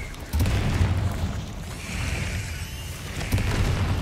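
A Confringo explosion spell in a Harry Potter video game goes off as a deep booming blast with a rumbling tail, followed by a second boom near the end.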